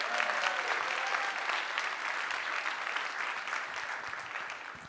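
An audience at a design leadership summit claps to welcome a panelist onstage, a full, sustained round of applause that slowly thins toward the end.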